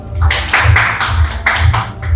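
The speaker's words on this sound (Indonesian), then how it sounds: "Kita beri tepuk tangan Ustaz Medi dulu." Audience applauding Ustaz Medi at a teachers' gathering, a dense sustained wash of many hands clapping at close range, fairly loud and steady, with faint low murmuring underneath.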